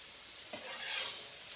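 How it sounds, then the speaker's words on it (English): Onions frying with bacon in a pan are stirred once, a soft scrape over a gentle sizzle, quiet and close. "Now, let's give that a stir. Make sure my onions aren't burning in any way"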